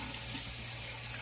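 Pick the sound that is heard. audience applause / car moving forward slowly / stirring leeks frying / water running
water running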